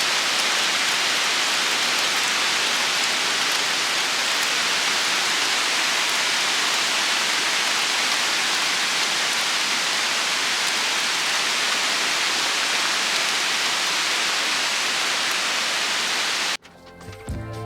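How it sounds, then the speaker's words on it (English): A rain shower pours down through the trees around a mountain cottage, a dense, even hiss that stays loud and steady before cutting off abruptly near the end. "We're getting a little bit of a rain shower, and it sounds amazing coming through the trees."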